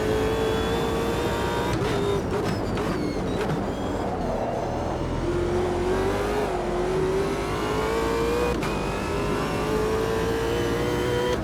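Car engine from a sim racing video game, a loud continuous drone whose pitch dips and climbs steadily as the car laps the track, with no talking over it.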